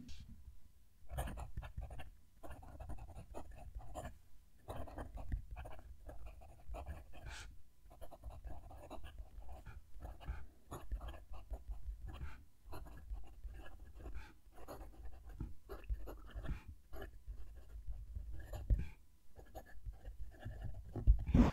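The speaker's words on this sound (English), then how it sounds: "as I'm writing with it, I can feel in my fingertips a little bit of the pen going over the paper" A TWSBI Eco fountain pen nib scratching across paper up close, quiet continuous strokes with brief pauses between words, soft and dry.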